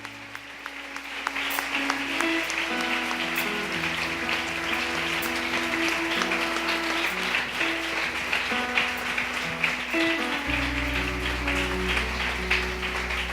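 A church congregation applauds at a Sunday service, steady clapping from the crowd over sustained music with held chords and a deep bass tone entering near the end.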